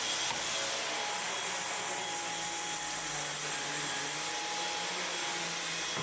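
Samsung Jet 75 stick vacuum cleaning a hardwood floor, giving a loud continuous high-pitched motor whine and airflow roar that holds steady and close throughout, with no talking.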